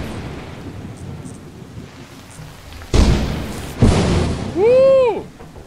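Thunder in the video game Lethal Company: two sharp, loud cracks roll out over a faint rainy background, followed by a rising tonal whoop near the end.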